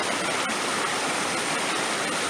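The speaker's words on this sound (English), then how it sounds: "There's a series of waterfalls here" A waterfall in the Hoh River Valley rushes in a steady, broad hiss of falling water, continuous and fairly near, with no voices.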